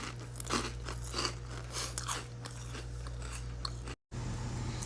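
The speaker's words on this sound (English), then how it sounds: "Quick snack break. Some delicious Rocky Road ice cream." Someone eating Rocky Road ice cream, close crunchy bites and chewing with soft mouth sounds over a low steady hum, cut by a brief dropout near the end.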